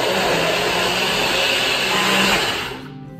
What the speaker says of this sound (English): So let's close everything, okay, and put in the mixer